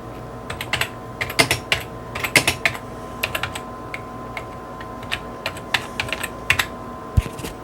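Typing on the curved keyboard of an old Mac, a steady run of close, crisp key clicks in quick bursts with short pauses, over a faint low hum.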